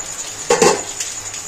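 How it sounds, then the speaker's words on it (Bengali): A metal pot lid lifts with a brief clink and scrape over simmering chicken gravy, a couple of soft knocks following, close and fairly clear against a quiet kitchen hiss. "ঢাকনাটা একটুখানি খুলে দেব।"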